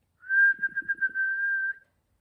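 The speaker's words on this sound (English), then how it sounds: "Whistle." A person whistles a single sustained tone lasting over a second, briefly wavering in the middle, heard close and clear against silence.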